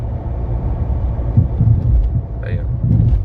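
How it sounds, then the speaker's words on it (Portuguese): The suspension of a Fiat Toro pickup knocks as it rolls slowly over road patches, heard as dull, irregular low thumps under a steady cabin rumble, with a brief voice in the background. "quando o carro dá aquele balanço, escuta um tuk-tuk, né?"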